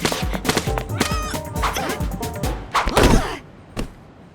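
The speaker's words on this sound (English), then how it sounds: "Someone's throwing paint bombs." Cartoon paint bombs are thrown and splatter in a run of thuds, whacks and wet splashes, close and loud, with cartoon music or effects layered beneath.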